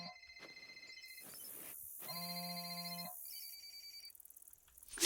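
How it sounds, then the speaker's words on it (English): Electronic phone ringtones trill and beep in theHunter: Call of the Wild, several overlapping tonal ring patterns switching between bursts, fairly quiet with a brief louder thump at the end. "hear the phones ringing?"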